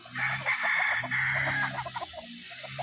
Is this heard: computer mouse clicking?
no